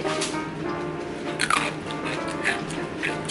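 A couple of sharp, crisp crunches as a Jagariko potato stick snack with vegetable bits is bitten close to the mic, over a faint background hiss.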